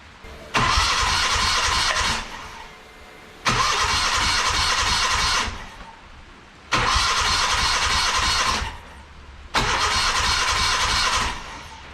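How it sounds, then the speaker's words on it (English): A Honda D16Y engine from an EK Civic cranking on the starter during a compression test on cylinder three: four loud, close bursts of rapid rhythmic cranking, each about two seconds long, separated by short pauses. "we'll do a compression test on cylinder number 3."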